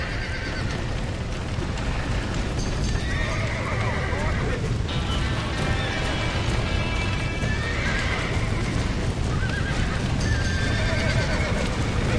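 Horses neigh and whinny loudly in a burning barn in the Red Dead Redemption video game, with repeated shrill calls and hoof clatter over a constant roar, while voices shout over the chaos.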